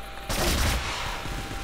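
A burst of automatic M16A4 rifle fire in the shooter game Crossfire starts abruptly and rattles on loudly, then tails off.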